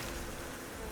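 Bees buzzing in the survival video game Icarus, a steady, dense insect drone that fills the whole brief moment at even loudness with no pauses.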